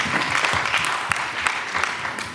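An audience applauds contestant 9 at a stage event, a close, crackling round of clapping with sharp individual claps standing out, holding steady to the end.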